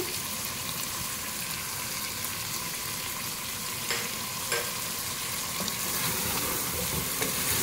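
Chicken fries on high heat with cumin seeds, cloves, cinnamon pieces and whole black peppercorns. A dense, continuous sizzle carries occasional sharp ticks and stirring clicks throughout.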